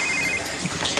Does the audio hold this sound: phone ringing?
yes